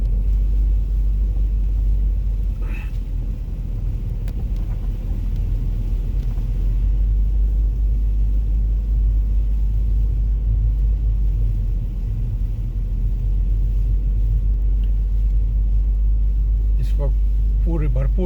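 A car creeping along a snow-covered, slippery road near an airport in Canada, with a steady heavy low rumble throughout and someone talking over it.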